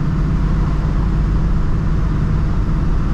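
A 1970 Chevrolet Nova Yenko Tribute cruises down the road with a loud, continuous low engine rumble and road roar, steady throughout.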